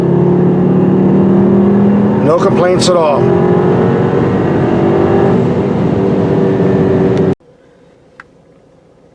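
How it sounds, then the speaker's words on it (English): Engine of a 2017 Volkswagen Jetta GLI or Audi A3 drones loudly from inside the cabin, rising briefly in pitch as it accelerates, with someone speaking over it before the sound cuts off abruptly near the end. "I can say this is a very pleasant engine to drive,"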